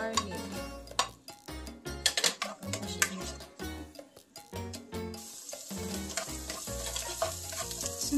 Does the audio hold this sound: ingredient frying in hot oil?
yes